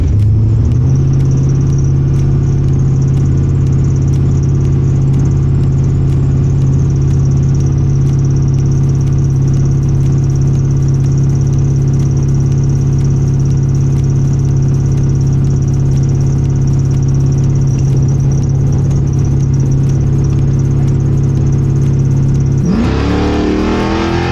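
A black convertible Corvette at a drag strip holds a loud, steady engine roar at high revs for over twenty seconds, then cuts off abruptly near the end.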